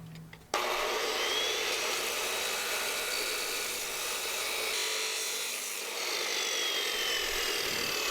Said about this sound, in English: Here I'm finishing a cut on some 3/16 inch thick angle iron.